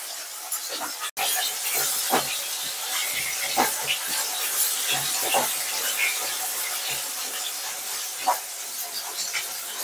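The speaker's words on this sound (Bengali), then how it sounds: "কই মাছগুলোকে ফার্স্ট ভেজে নেব" Hot oil hisses and spits around frying koi fish (climbing perch), with scattered pops and crackles over a continuous sizzle.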